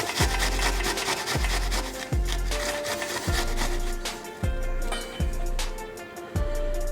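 An onion is rubbed down a metal box grater in steady strokes, each one a rasping scrape that ends in a soft thud, about eight strokes in a row, close up and without talk.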